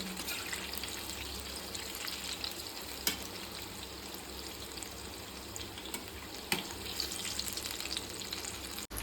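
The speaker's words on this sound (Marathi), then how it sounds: "ब्राऊन कलर होईपर्यंत व्यवस्थित परतव।" Gulgule, jaggery and wheat-flour fritters, frying in hot oil give off a steady, even sizzle throughout, with a couple of faint clicks and no talking.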